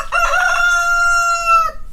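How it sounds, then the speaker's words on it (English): A rooster crows up close in a single long, loud call lasting under two seconds, with a rising start and a sustained tone, heard alone. "We are right next to the rooster."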